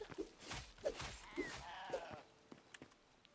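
Sheep bleat several times in the Hytale video game, short nasal calls spaced about half a second apart, fairly faint and mixed with scattered clicks and game sounds.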